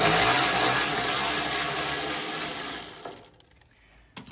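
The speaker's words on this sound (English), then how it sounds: "But I use my electric ratchet for a lot of stuff." Electric ratchet loosening a bolt on a John Deere X320 lawn tractor, heard as a loud, close, steady mechanical whir for about three seconds that then stops, followed by faint clicks, with no talk.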